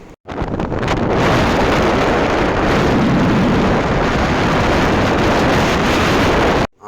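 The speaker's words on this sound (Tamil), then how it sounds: "நல்ல ஒரு சூப்பரான காற்று ஒரு வாரமாக காற்று அருமையாக இருக்குது" Wind gusts at Courtallam Old Falls buffet the microphone in a loud, continuous rumbling roar that starts abruptly and cuts off near the end.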